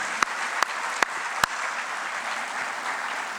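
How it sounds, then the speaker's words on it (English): A live audience at an indoor presentation breaks into steady, even applause, with a few sharp louder claps standing out in the first second and a half. "Let's give them a round of applause."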